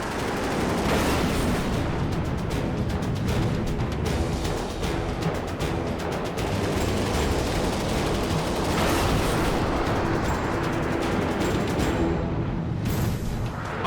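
A jet fighter's cannon fires during a desert dogfight against a MiG, heard as a loud, dense roar of rapid gunfire and explosive rumble that runs almost without pause, close and overwhelming.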